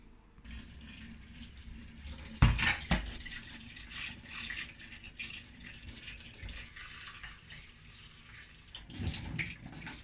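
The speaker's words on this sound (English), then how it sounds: "I'm going to go and rinse the crab and the prawns" Tap water runs into a sink to rinse crab and prawns, a steady splashing flow with a couple of louder bursts and clatters as the shellfish are handled.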